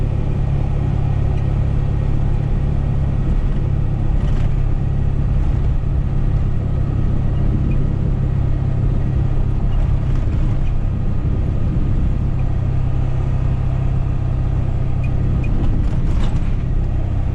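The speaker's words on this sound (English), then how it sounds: "Doing about 50 miles an hour, and this thing is rock solid." Interior road noise from an OBS Ford truck cruising at about 50 mph on a bumpy road: a steady, loud low rumble of engine and tires with occasional faint knocks and rattles from the rough surface.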